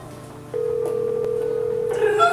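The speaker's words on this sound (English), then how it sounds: "Phone is ringing." A phone rings in the Nancy Drew: Legend of the Crystal Skull video game, a steady electronic tone held for about a second and a half, with a brighter ringing burst at the end.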